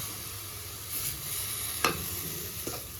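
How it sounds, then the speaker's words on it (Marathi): Grated pumpkin being sautéed in a pan over low gas for kheer, a soft steady sizzle with two brief scrapes of a stirring spoon, close and quiet. "गॅस कमीच करायचा. परतून घ्यायचं."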